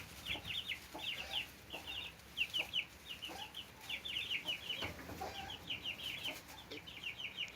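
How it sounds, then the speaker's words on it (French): Blue Pekin bantam hen with four chicks, two Brahma and two Pekin, on grass: soft, repeated clucks alongside high, rapid peeping from the chicks, steady and close with no talk. "là on retrouve ma petite Pékin bleue avec ses 4 poussins, donc 2 Brahma"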